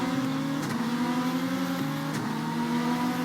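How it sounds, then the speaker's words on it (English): Onboard a number 55 Viper GT race car during a 500 km GT championship race, the engine holds a loud, steady droning roar with slight pitch shifts as it changes gear, with no talk. "You're on board the number 55 Viper of John Courier."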